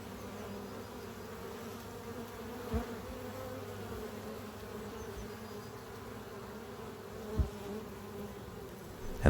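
Honeybees carrying pollen buzz in a continuous low drone near a hive entrance in spring, with a couple of brief louder passes as bees fly close and land.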